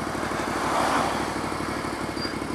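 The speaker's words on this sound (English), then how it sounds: "my bike is idling, which means it's going to overheat quite soon" A motorcycle idling in traffic sits close by, with a steady, even engine rumble and no talk.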